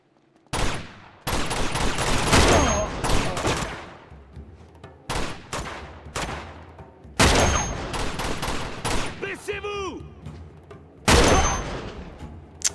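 Sniper rifle fire in the video game Uncharted 2: several sharp, loud gunshot blasts spaced a few seconds apart, each with a long echoing tail. Ringing tones and other game effects fill the gaps between shots.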